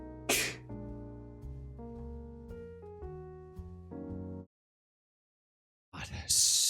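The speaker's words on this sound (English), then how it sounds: "Sneezing like a buffalo over here." A single sharp sneeze bursts out near the start, followed by steady musical tones, a pause of silence, then a second loud noisy burst at the end.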